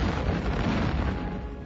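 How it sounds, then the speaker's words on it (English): A film trailer explosion sound effect, a dense, loud, rumbling blast that roars without a break for under two seconds, with no talk over it. "Robert Benham died in that explosion."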